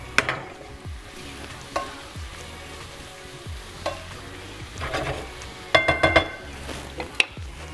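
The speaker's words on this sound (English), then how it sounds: "stir this around" Shrimp seasoned with Southwest seasoning sizzle steadily in a hot sauté pan, with repeated scraping stirs and a few sharp clanks of utensil against metal, loud and close with no talk.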